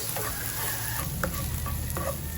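Onions and garlic sauté in oil or butter in a pan, a loud close hiss with several short scraping stirs spaced through it, and no talking.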